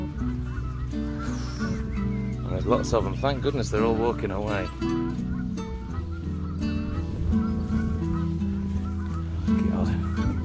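Flock of Canada geese honking close by on a countryside riverside walk, repeated overlapping calls in bursts, with someone talking over them throughout.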